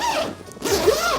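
A luggage suitcase zipper is pulled open close up in two quick, scratchy runs with a short pause between them.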